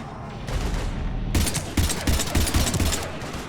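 Sustained bursts of automatic gunfire from a Mass Effect 3 firefight against Husks, loud and close, with rapid repeated shots building into a dense fusillade after a quieter opening stretch.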